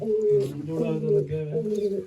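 Pigeons coo in low, throaty, rolling calls, close and fairly loud, several overlapping phrases in quick succession.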